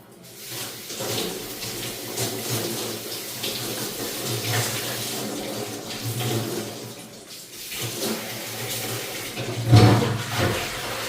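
Water runs from a tap while a pressure cooker is washed, a steady close rush of flowing and splashing water with shifting intensity and a sharper clatter near the end.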